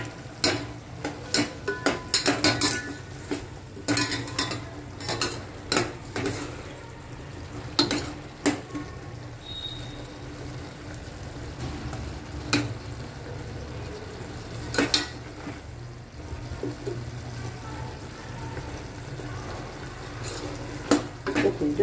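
A utensil scrapes and clinks against a pan while tomatoes are stirred during home cooking of chana bateta, irregular knocks and scrapes over a soft background hiss.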